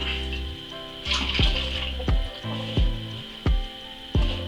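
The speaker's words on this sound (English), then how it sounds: "I'm gonna add some cold water to it so I can rinse out and get every last drop of the tastiness" Cold water is poured over cocoa nib chunks to rinse them for a chocolate mead, a close, steady trickle punctuated by several sharp splashing knocks as the liquid falls.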